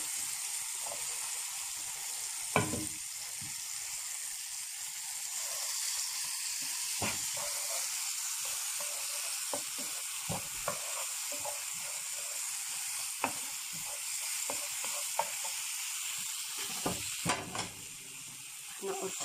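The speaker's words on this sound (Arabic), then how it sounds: "هنستمر بالتقليب لحد ما الطماطم برضك تدبل شويه كده" Tomatoes sizzle softly in a pan with a steady hiss, broken by sporadic scraping and tapping of a spoon as they are stirred; faint, fairly even throughout.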